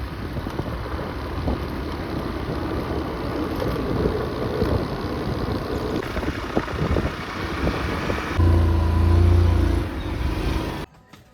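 A vehicle engine runs steadily nearby while a dog is loaded up to be driven home, with a low rumble that swells louder toward the end before cutting off abruptly.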